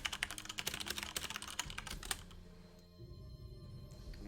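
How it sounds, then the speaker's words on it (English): Fast typing on a computer keyboard makes a rapid clatter of keystrokes, dense at first and then thinning to a few scattered taps, faint and alone. "Voracious typing ensues after Wareham."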